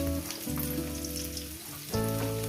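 Cauliflower and onion fry in hot oil in a pan with a steady, close sizzle and crackle, while a low hum runs underneath and swells briefly near the end.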